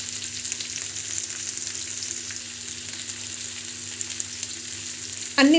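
Garlic, red chillies and tamarind go into a pan of frying onions, giving a steady close sizzle that runs throughout, with a louder clatter of ingredients dropping in at the very end.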